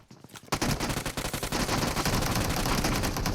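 PUBG Mobile gunfire opening after a brief quiet moment: a sudden sharp burst followed by rapid automatic machine-gun fire, dense and loud, rattling steadily to the end without talk.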